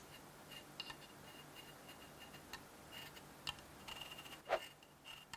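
Faint clicking and ticking from a stiff knob on a Blue Yeti microphone being turned, small irregular ratchety clicks over a quiet hiss, with one sharper scrape near the end.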